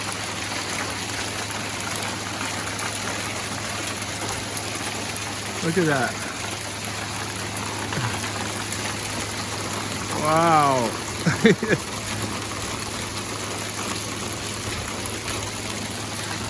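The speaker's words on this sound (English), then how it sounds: "it's an amazing amount of hail" A surprise hailstorm in California pours down as a steady, dense rushing clatter throughout, with people briefly exclaiming over it partway through.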